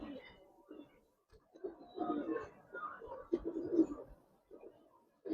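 Giribaz racing pigeons coo softly nearby in low, throaty bursts that rise and fall irregularly, with quiet gaps between calls.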